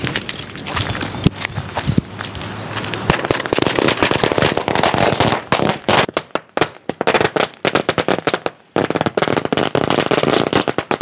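Diwali firecrackers blasting outdoors in a rapid, dense string of loud sharp bangs and crackles, followed by more scattered, irregular pops with brief gaps, no talk.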